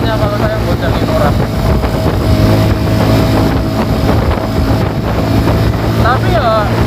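A Suzuki Thunder 125 motorcycle labours up a steep hill with a steady, strained engine drone, heard from the bike and buffeted by loud wind noise, while the rider talks over it.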